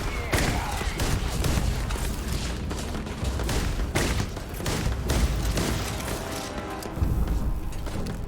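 Gunfire in the sci-fi game Starfield: a dense fusillade of rapid shots and booms with mechanical clanks, loud and continuous, with someone talking intermittently over it.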